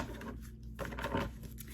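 Brief papery riffling and soft patter of tarot cards being shuffled, close and quiet, in two or three short bursts.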